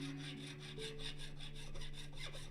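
A file rasping back and forth over a guitar fret to crown it, close and rhythmic with about a dozen even strokes in quick succession.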